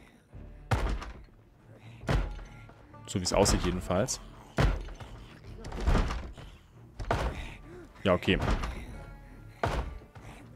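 Heavy door thumps in the Project Zomboid zombie game, sharp repeated knocks landing every second or so, loud and close, with someone speaking between and over them.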